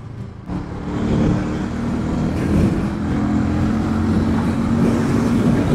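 A Harley-Davidson X440 motorcycle rides in fourth gear, its engine and road noise forming a steady, loud rumble that builds slightly and holds constant, with no talking.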